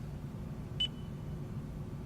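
A single short electronic prompt beep from the voice command system of a 2015 Lexus RX350, clear but brief over a steady low cabin hum, with no talk.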